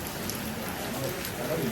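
Heavy rain falling at a bus stop in Kattappana, Kerala, a dense, continuous hiss of drops on surfaces, fairly soft and steady, with a voice faintly present in the background.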